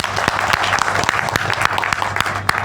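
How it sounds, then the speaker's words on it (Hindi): Loud audience applause at an Indian corporate event, dense crowd clapping with sharp individual hand claps standing out close by, no speech. "तो मेरी तरफ से आप सभी की तरफ से ज़ोरदार तालियां।"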